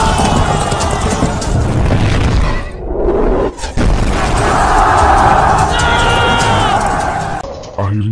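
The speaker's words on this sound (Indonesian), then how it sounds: "ledakan bawah tanah yang menghancurkan pondasi benteng Konstantinopel menandakan bahwa perang dimulai." Heavy, rumbling booms and crashing debris from an underground explosion destroying fortress foundations at Constantinople, a loud sustained blast with a brief lull before more roaring destruction and distant crowd noise.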